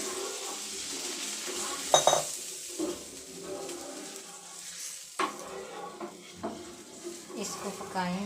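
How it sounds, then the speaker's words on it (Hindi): A spoon stirs a chicken cube mixture in a pot of stock. Soft scraping and clinks run steadily throughout, with a few sharper metallic taps against the pot and a gentle simmer beneath. "इसमें चमचा चलाते रहना है।"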